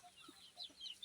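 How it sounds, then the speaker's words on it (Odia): Free-range desi chickens foraging outdoors near a pond, giving a few faint, soft clucks in quick succession from some distance. "ଦେଖନ୍ତୁ ଦେଶୀ କୁକୁଡ଼ା"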